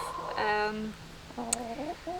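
Chickens close by give a few short, nasal clucks and calls, one longer call followed by several quicker ones.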